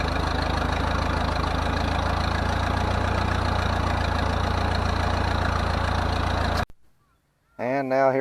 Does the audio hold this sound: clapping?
no